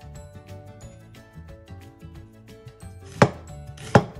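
A knife chops a large white onion into strips on a cutting board, a steady run of soft rapid taps followed by two loud, sharp blade strikes close up, with no talking.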